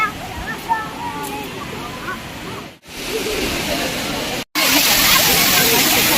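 The Kutralam waterfalls rush as a dense, continuous hiss of falling water, close and loud, interrupted by two brief cuts, with voices speaking over the roar early on.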